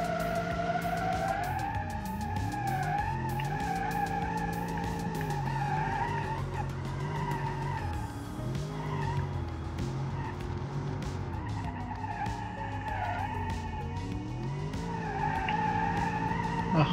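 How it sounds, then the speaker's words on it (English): A car in the BeamNG driving game spins its wheels and skids, a long continuous tire squeal with wavering pitch over a steady engine drone, loud and unbroken throughout. "Ah, wheel spin."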